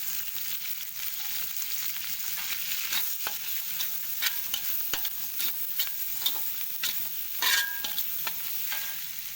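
Egg frying in hot oil for masala noodles, a continuous bright sizzle with occasional stirring scrapes and pops, close and steady, with no voices.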